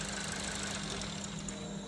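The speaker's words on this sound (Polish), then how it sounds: "wyłączymy silnik, żeby go przez przypadek nie zapowietrzyć" A car engine idles steadily during an injector cleaning service with a Power Clean machine, a low, even running hum up close and unbroken, with no shutdown heard in this stretch.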